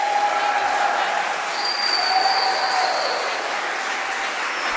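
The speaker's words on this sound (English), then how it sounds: "if you want to express with your applause that you have appreciated the show" A concert audience at a show claps together in a continuous, even roar of applause, with a few faint whistles rising above the crowd.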